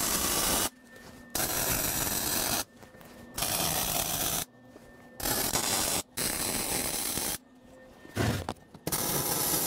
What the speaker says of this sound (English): now I can go ahead and weld everything up solid